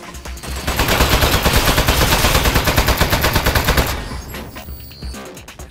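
Rapid turret gunfire in the Portal spin-off game Aperture Desk Job, a loud, dense stream of evenly spaced shots lasting about four seconds before cutting off into quieter game sounds.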